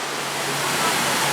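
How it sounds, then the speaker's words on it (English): Water cannon at a pirate-themed water playground pours a steady, loud rush of splashing water, a continuous broadband wash with no pauses. "We've got several slides and this cannon shooting out tons and tons of water over everybody."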